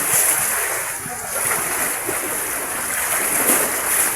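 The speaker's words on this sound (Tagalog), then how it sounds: "napakalaking mga alon" Big ocean waves at sea around a small fishing boat, with a constant rushing wash of water and wind that swells and eases in broad surges.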